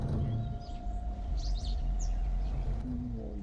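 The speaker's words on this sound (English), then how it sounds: "There go the crows." Crows calling in modded Minecraft: a few bright, short calls cluster in the middle, over a steady low hum and a constant background drone.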